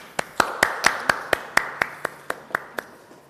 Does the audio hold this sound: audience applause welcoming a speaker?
yes